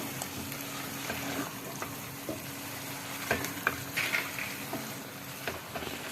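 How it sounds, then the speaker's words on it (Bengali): Pointed gourd (potol) and potatoes sauté in a pan, a steady soft sizzle broken by scattered stirring scrapes and light clatters, close and fairly quiet. "পটলগুলো দিলাম এবার একটু কষবো"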